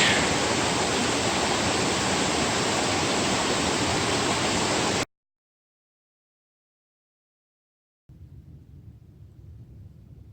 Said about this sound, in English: Nice little wide cascade here at the first bridge crossing over the creek.